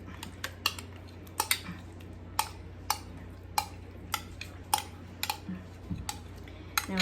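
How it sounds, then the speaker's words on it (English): Spoon clinking and scraping against a bowl while pumpkin is mixed into a three-ingredient frozen treat mixture, a series of sharp close taps in an irregular rhythm over a low steady hum. "I'm gonna mix in the pumpkin."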